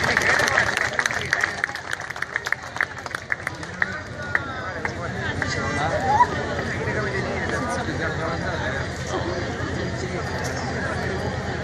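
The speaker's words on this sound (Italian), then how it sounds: "Accogliamole con un caloroso applauso." An audience in San Pier Niceto applauds a majorette performance, the clapping and crowd chatter building into a sustained wash after an announcer's introduction.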